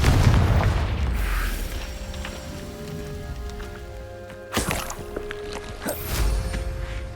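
Confringo fire-blast spell from Hogwarts Legacy on Xbox Series X: a loud low boom burst near the start, followed later by two sharp crackling impacts over a rumbling game soundscape.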